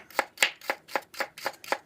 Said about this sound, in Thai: ต่อไปเราก็หั่นหอมแดงนะคะ